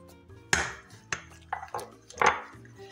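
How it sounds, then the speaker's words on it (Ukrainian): A spoon works pirozhki dough in a bowl, giving a few separate clinks and scrapes against the bowl with quiet pauses between them, close by with no talk. "Вимішую так прямо ложкою, можете венчиком, хочете вилкою"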